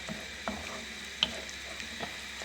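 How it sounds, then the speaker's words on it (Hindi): Okra masala with yogurt fries in a pan, giving a faint, steady low sizzle broken by a few soft stirring scrapes, with no talking. "इसको भी बहुत अच्छी तरह भून लेंगे"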